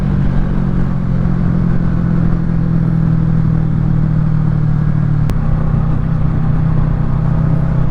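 A 2022 Kawasaki Ninja 650 motorcycle fitted with a Yoshimura exhaust cruising on a relaxed ride, a steady low engine drone heard close and continuous throughout with no talking.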